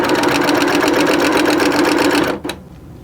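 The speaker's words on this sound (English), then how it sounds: "First thing that we are going to do is sew the short ends together." Sewing machine joining the short ends of jelly roll quilt strips, a loud, steady rapid whirring stitch that runs about two and a half seconds and then stops, leaving quiet room noise.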